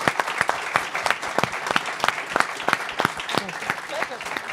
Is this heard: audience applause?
yes